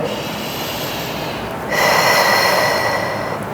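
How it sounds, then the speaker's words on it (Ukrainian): Deep, audible breaths are drawn in and pushed out during a flat-stomach floor workout, one long inhale followed by a stronger, louder exhale, close to the microphone. "Видих. Вдих. Видих. І ще раз вдих видих."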